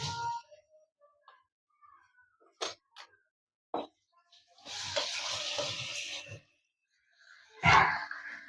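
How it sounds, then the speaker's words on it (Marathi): Ginger garlic paste hits hot oil in a home kitchen pan while cooking chicken masala, giving a loud, broadband sizzle and hiss that runs for about two seconds, then a sharper burst of frying, after scattered small clicks. "तेल गरम झालं का फक्त आपल्याला एक चमचा आलं लसणाची पेस्ट टाकून घ्यायची"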